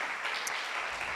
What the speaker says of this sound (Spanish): A veces déles aplauso al Señor